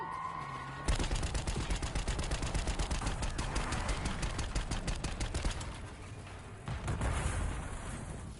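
Gunfire in the Black Ops 6 video game campaign: sustained rapid automatic fire crackles loudly for several seconds, pauses briefly, then resumes in another burst.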